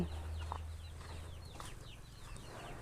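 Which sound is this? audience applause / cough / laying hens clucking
laying hens clucking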